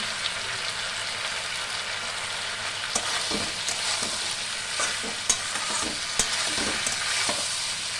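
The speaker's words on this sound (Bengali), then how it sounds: "আমি একটু নাড়াচাড়া করে অল্প করে জল দিয়ে" Mixed vegetables fry in a pan with turmeric and green chillies, giving a constant loud sizzle while a spatula scrapes and taps through them in irregular strokes.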